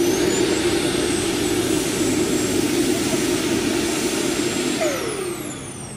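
A big four-engine radio-controlled model aircraft takes off at an outdoor airshow with a loud, steady jet-like roar and high whine, close and sustained, easing slightly as it pulls away at the end.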